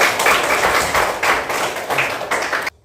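A class of students claps together in a classroom, a loud, fairly rhythmic series of clapping bursts that stops abruptly.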